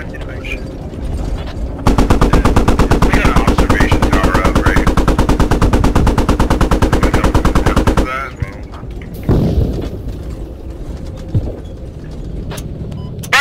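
In an Abrams tank video game battle, a loud, rapid automatic gunfire burst rattles for several seconds, followed by scattered single shots and mechanical clanks, with voices in the background.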